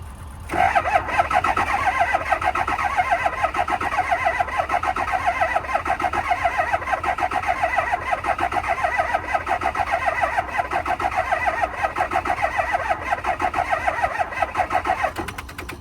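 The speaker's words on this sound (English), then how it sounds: "it's really hard turning over" An engine cranks over and over in a steady, labored rhythm without catching, a long continuous grinding churn, close and fairly loud; a diesel engine struggling to start on weak batteries.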